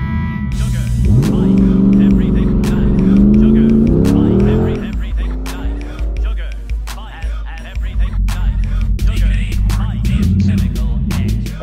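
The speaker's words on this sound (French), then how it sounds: "On va voir comment il nous met ça en glissade." A Dodge Challenger drifts nearby, its engine revving hard and roaring as it slides, followed by sharp bursts and pops and a rough idle, loud and close.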